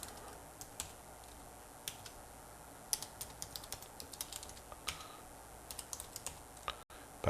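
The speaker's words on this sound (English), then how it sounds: "you can also type your own passphrase if you prefer" Typing a passphrase on a computer keyboard, soft isolated key clicks tapping out in an uneven rhythm, quiet and close with faint room hiss underneath.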